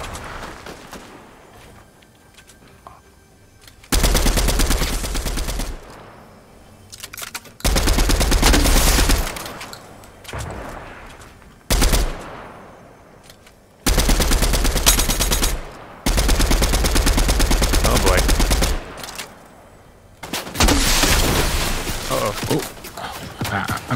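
Repeated long bursts of automatic gunfire in the Fortnite video game, loud and close, arriving in several sustained stretches separated by short quieter gaps.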